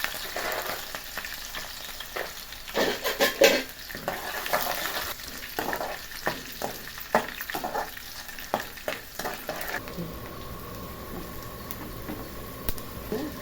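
Peanuts sizzling and frying in hot oil as a tempering for mango pulihora, a steady crackling fry with brief stirring scrapes near and clear, settling into a quieter, even sizzle toward the end.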